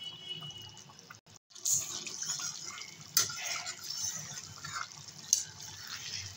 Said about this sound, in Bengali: 3-4 মিনিটের মতো ফুটিয়ে নেব।